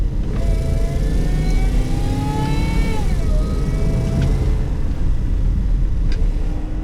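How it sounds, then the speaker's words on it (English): A supercharged Range Rover V8 pulls hard through long gears above 5,000 RPM, its loud, steady engine roar carrying a rising supercharger whine that dips briefly near a gear change, close and without talk. "That's a lot of supercharger whine, actually."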